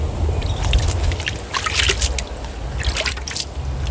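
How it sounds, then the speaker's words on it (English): Water poured from a watering can onto freshly seeded garden soil, a steady close trickle and splash running for several seconds with no talk. "Look, you water it in."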